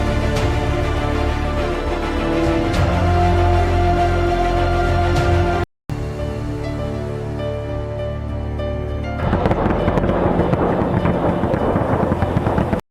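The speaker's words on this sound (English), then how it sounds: "just generic kind of training footage of a barrage of Grads" A Grad multiple rocket launcher battery fires a barrage in training footage, a steady loud roaring rush of launches continuing without pause, briefly cut, then resuming with harsher crackling bursts toward the end.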